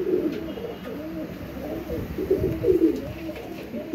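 Sialkoti pigeon cooing: a steady series of soft, throaty coos repeating in a rolling rhythm, fairly close, with no talking.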